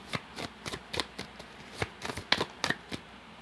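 Tarot cards are riffled and drawn in quick bursts, a series of crisp papery flicks and snaps close up, irregularly spaced with brief pauses between them.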